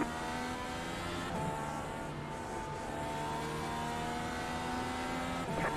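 Dirt midget race cars accelerating off a green flag, a loud steady engine drone with layered rising tones from several cars running together close by.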